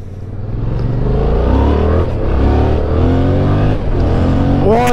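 A Yamaha MT-07 naked motorcycle accelerating hard: a loud, close engine note climbs through the gears with rising pitch sweeps, brief dips at the shifts and a renewed rev at the end.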